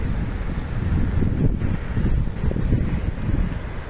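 Flooded Molopo River rushing past a bridge as a wide, churning mass of water, a loud continuous roar with heavy low rumble and gusty wind buffeting the microphone.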